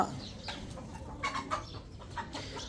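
Roosters cluck in a few short, close calls over a low background rumble, with no talk.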